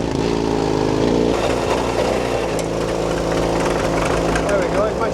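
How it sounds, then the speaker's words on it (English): A two-cylinder petrol engine on a vintage tractor idles steadily at a vintage show, its low, even chugging running throughout while voices talk nearby. "2-cylinder, petrol engine"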